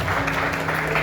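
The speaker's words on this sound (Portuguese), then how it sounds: "Salve de palmas para Jesus" Brief burst of congregation clapping at a Brazilian church salvation service, mixed with a steady hum and what sounds like background music or voices, lasting about a second.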